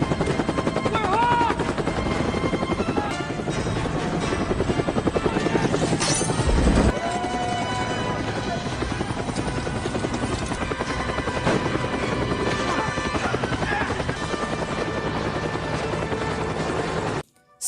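Helicopter in a military action film scene, steady loud rotor chop and engine drone throughout with a brief sharp burst partway, cutting off at the end.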